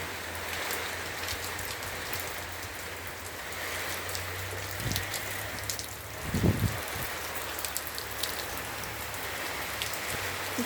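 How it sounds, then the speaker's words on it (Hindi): Heavy rain pours steadily onto surfaces in a broad, constant hiss, with a few louder thuds and splashes partway through; close and continuous, with no talking. "इतना तेज बारिश,"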